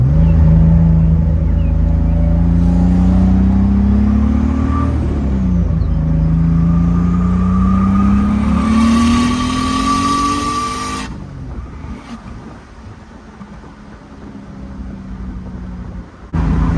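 A turbocharged BMW E46 325ci with an S52 engine accelerates hard on a street, its loud engine note rising through the gears with a shift, then easing off into a quieter cruise.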